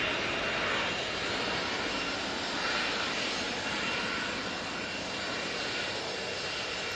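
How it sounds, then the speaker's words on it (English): A Bombardier Global business jet at Manchester Airport, a loud continuous jet engine roar that holds steady throughout with a broad rushing texture. "Lovely looking BizJet, that Bombardier Global."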